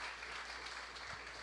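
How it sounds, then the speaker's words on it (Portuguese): Applause for mayors and municipal leaders at a national government meeting, a steady, faint wash of clapping from a large crowd with no distinct pauses. "eu queria pedir uma salva de palmas a todos os prefeitos, prefeitas e dirigentes municipais desse país"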